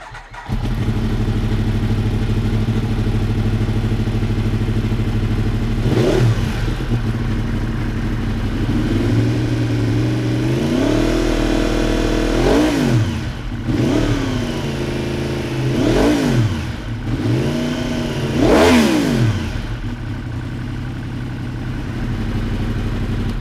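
A Yamaha R1 sport bike with an aftermarket exhaust idles in neutral with a steady low rumble, then is revved in several sharp blips that rise and fall, close and loud, with no talking over it.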